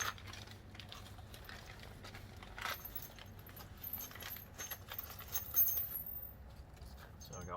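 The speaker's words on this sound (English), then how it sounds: "So I got a pack of bolts here." A pack of half-inch by one-inch bolts with washers rattles and jingles softly as it is handled up close, with scattered metallic clinks over a quiet background.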